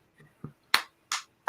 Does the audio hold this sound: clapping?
yes